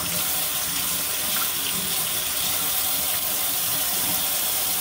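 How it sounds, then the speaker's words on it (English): Tap water runs steadily over sublimation-printed cotton fabric, a continuous close splashing hiss that stays even and unbroken throughout. "running the water over it."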